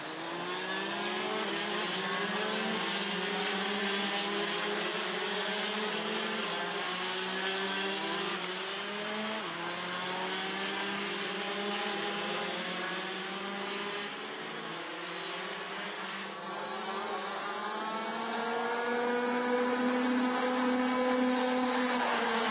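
Rotax racing karts head onto the formation lap at the Mülsen circuit in wet conditions, a pack of two-stroke engines droning and wavering in pitch together, loud and continuous with no voices over them.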